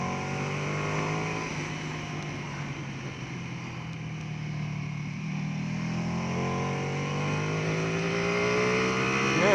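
A Ducati Panigale V2 motorcycle accelerating hard on a race track, a loud continuous engine roar with rising pitch sweeps as it winds up through the revs, no talking.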